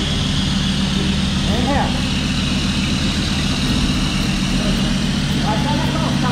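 Ford Ranger 3.2 with a straight-through exhaust runs with a steady, loud engine drone and low rumble throughout, while people talk over it.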